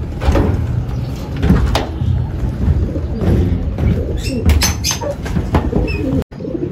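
Racing pigeons arriving at the loft, with soft cooing, wing flutters and the clatter of a trap or door, moderately close, with faint voices in the background.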